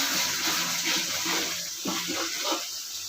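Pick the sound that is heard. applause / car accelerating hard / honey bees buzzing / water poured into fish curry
water poured into fish curry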